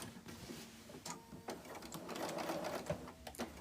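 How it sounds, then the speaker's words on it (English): A sewing machine stitches around the edge of a trapunto quilt piece, a faint, short burst of soft mechanical whirring with light clicks, heard close but quiet. "So I've literally just stitched around the edge of it."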